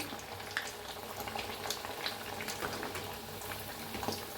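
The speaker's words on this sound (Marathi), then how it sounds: "बघा किती छान तळायला लागले" Sabudana vada frying in hot oil, a steady soft bubbling sizzle with faint crackles, close and even throughout without talk.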